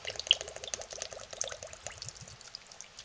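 Essential oil poured into a batch of hot process soap from a kit: a faint, quiet trickle of liquid running steadily for a few seconds, close up and alone without speech.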